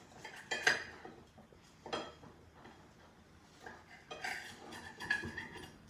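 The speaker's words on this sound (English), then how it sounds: "You take your kitchen knife. I'm just going to cut it into 4s" A kitchen knife slices a quesadilla into pieces on a plate, giving soft, scattered clinks and taps of metal against dishware at a low level in a quiet kitchen.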